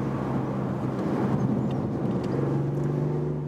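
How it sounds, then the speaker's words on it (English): A BMW i8 Roadster sports car engine roars in a steady, even drone, boosted by the car's speakers in sport mode, heard from inside the car and holding constant throughout. "Engine roar, which is again boosted by the speakers there."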